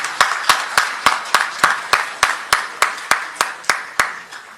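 Audience applause at a Hindi poetry gathering comes through as a steady series of sharp, evenly spaced claps, about fifteen in under five seconds, loud and close with no talking over them.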